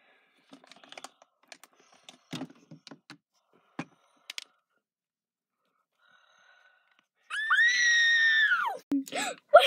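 A drawn-out high scream rings out at night, loud and wavering for about two seconds, after a stretch of scattered soft clicks and taps in a quiet room, then a short second cry follows.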